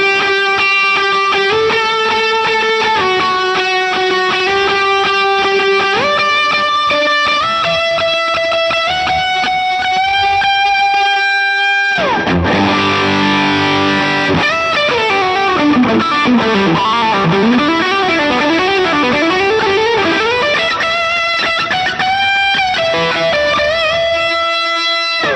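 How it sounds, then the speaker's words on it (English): An electric guitar runs through distortion, octave and delay pedals, playing sustained lead notes that step upward, then a burst of fast bending and trilling lines with thick, layered, repeating echoes, loud and alone. "So let's say if I'm doing it with the distortion, let me add that in."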